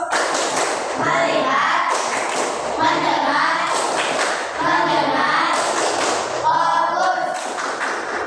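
Children in a classroom clap their hands in counted bursts, each set of claps alternating with their chanting voices in a regular rhythm. Loud and close throughout.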